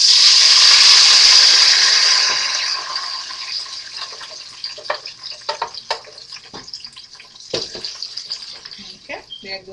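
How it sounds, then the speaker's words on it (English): Pepper hits hot palm oil in a pan for efo riro with a loud burst of sizzling that fades over a couple of seconds, followed by scattered clinks and crackles of stirring. "So I'm gonna pour in the pepper."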